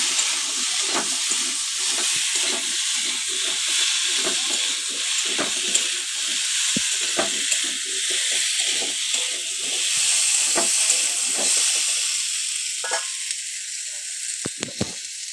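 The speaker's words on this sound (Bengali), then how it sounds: "এখন এর মধ্যে হলুদ দিয়ে দিলাম, দিয়ে একটু ভালো করে আলুটা কষিয়ে নেব।" Potatoes with turmeric sautéing in a hot pan give a steady, moderate sizzle and hiss, broken by scattered clicks and scrapes of stirring, heard close with no talk.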